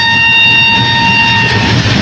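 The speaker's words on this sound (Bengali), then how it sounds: "আমাদের ট্রেন এরপর ঢুকলো প্রয়াগরাজ চৌকি" A train rolls toward Prayagraj Chheoki station on the route from Kolkata to the Kumbh Mela, giving a loud, steady rumble with a sustained metallic whine throughout and no voices.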